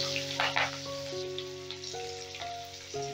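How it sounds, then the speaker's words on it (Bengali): Chopped onion fries in hot oil with a steady bright sizzle, while faint stirring clinks and a sustained musical tone sit underneath; no one talks. "এবারে পেঁয়াজটাকেও আমি হালকা করে ভেজে নেব, হালকা লাল লাল করে ভেজে নেব"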